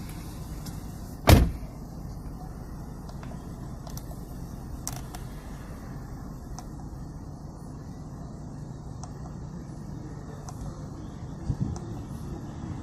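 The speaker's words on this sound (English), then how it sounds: "Let me close the door." One solid car door thump early on on a 2018 Dodge Ram 2500, then a quiet idling truck interior with faint clicks and another soft knock later.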